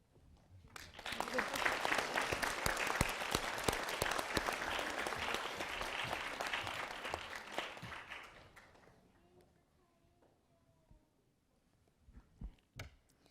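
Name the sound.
applause from the audience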